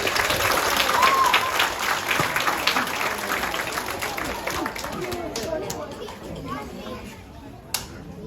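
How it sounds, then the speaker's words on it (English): A crowd with many children claps and chatters at a crocodile show at a wildlife park in Cairns, a lively burst of applause that gradually thins out under voices. "Give me a clap, guys."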